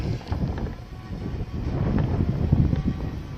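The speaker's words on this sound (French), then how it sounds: "je sais pas si avec le vent vous m'entendrez bien" Outdoor wind buffets a microphone, making a continuous low rumbling roar that swells in gusts and grows stronger toward the end, with no voices.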